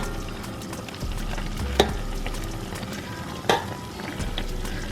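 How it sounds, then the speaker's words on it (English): Chicken fries and sizzles in a pot for St. Vincent pelau while a utensil stirs through it, a steady crackling hiss broken by a couple of sharp scraping knocks against the pot. "what we're doing is just stirring it up, making sure everything has an opportunity to get some of that color"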